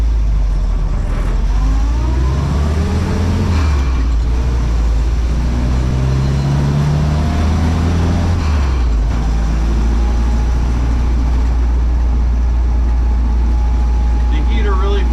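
A 1955 Willys CJ5 Jeep rumbles down a road with a loud, low engine drone inside the cabin as gears shift and revs rise and fall, and someone talks over it.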